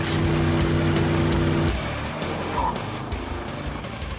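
Cartoon race car engine at a Pixiegrad grand prix, a loud sustained motor drone that holds steady, then shifts to a rougher, lower rumble partway through, close and continuous without talk.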